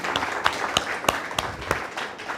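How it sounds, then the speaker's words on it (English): An audience at a community gathering claps in a thin, scattered round, distinct individual hand claps standing out at a moderate distance rather than a dense roar. "Please, a round of applause for our community."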